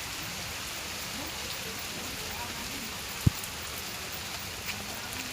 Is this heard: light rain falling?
yes